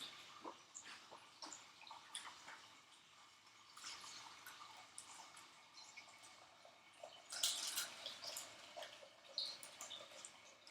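Tap water runs into a pot for cooking noodles in a home kitchen, a faint, quiet stream with intermittent splashing and dripping bursts and no talk.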